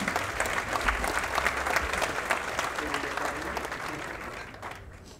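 Audience at a University of Auckland law awards ceremony applauds a scholarship recipient, a steady wash of clapping from many hands that holds evenly and tapers off near the end.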